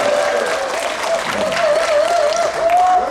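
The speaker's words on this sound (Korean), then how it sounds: "예행 연습으로 박수 한번 와 함성 한번 떼주시겠습니까?" Outdoor festival audience at a traditional arts performance stage in Incheon claps and cheers in a rehearsal burst, dense steady applause with a sustained whistle or shout tone running over it throughout.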